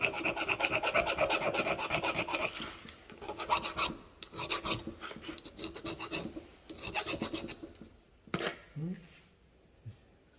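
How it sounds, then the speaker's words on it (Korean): A hand file rasps back and forth across a milled metal workpiece from an end mill job, in quick rhythmic strokes that come in bursts with short pauses, close and clear. "이 줄질 하는데도 한 시간 좀 걸려요"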